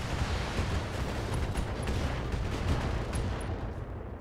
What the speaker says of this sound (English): Okay, we have an ammo explosion.